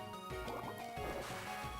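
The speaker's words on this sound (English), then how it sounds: "Hit him with the almighty mud shot" A Pokemon Mud Shot attack effect in a video game: a wet, gurgling liquid splatter of squirting goo, bubbling and sloshing for under two seconds with no talking.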